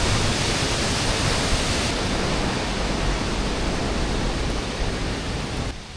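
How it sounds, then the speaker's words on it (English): A waterfall in England's Lake District roars as a steady, loud, broadband rush of falling water, unbroken and close, with no voices. "Alrighty, that's waterfall done."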